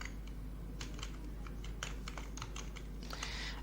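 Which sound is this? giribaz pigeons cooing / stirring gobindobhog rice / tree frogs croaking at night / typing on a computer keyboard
typing on a computer keyboard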